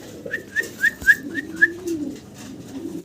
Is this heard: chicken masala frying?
no